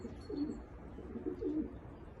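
Racing pigeons of an Austrian breed coo in a loft, two soft low rolling coos close by, alone without talk.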